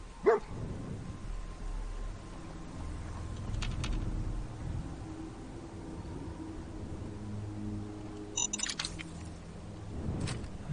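Dog barking inside the video game Fallout 4, short sharp yelps near the start and again near the end over a steady low game ambience, with no talk.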